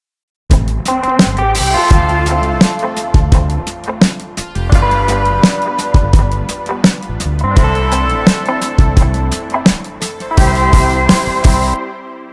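A bright 1984 Strings 2 synthesizer strings patch plays sustained chords, backed by steady drum hits and bass in a pop song, loud and full for about twelve seconds without any voices.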